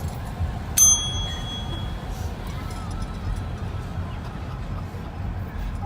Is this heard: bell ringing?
yes